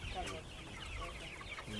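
A flock of chickens on an organic poultry farm in Africa clucks and chatters steadily, a dense mix of overlapping calls at moderate volume.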